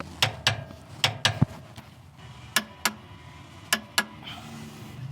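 A torque wrench clicks sharply as it tightens the rear track bar bolts on a 2020 Ford F53 V8 motorhome chassis, with irregular ratcheting ticks in quick pairs and clusters that sound close and distinct.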